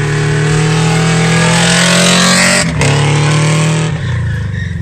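A Subaru Impreza WRX engine roaring loud and close at sustained high revs with a couple of brief dips, as the car is driven sideways in a slide.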